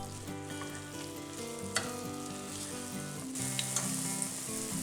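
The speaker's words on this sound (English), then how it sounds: "Now add your flour and give it a good mix in" Flour being stirred into a frying turkey and ham pie filling, a continuous close sizzle with a few scraping spoon knocks, the frying growing slightly brighter toward the end.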